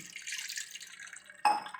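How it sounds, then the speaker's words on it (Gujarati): Cold water streams steadily over freshly made paneer for over a second, then a brief louder gush of pouring or splashing near the end, close by. "પાણી નાખી લેશું ઠંડુ"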